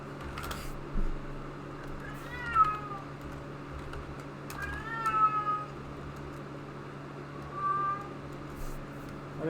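A house cat meows three times at intervals, fairly close and clear, over a low steady hum with faint background sounds between calls.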